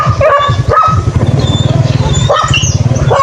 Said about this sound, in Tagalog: namiss ako ng aso guys oh, oh ang dami kong aso dito namiss nila ako